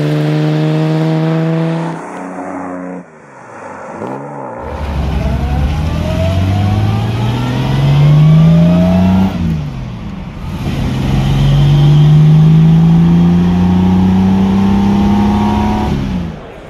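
A classic DB2/4 GT car with a 2.9-liter straight-six engine idles, then revs repeatedly through rising and falling pitches, loud and close, with a brief lull between bursts.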